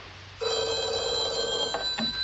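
An old-fashioned telephone bell rings at a police station, one sustained bright ring that starts abruptly and holds for well over a second before a short break and a second burst, fairly clear with no talk over it.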